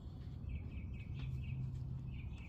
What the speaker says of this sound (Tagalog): May ibon na kumakain talaga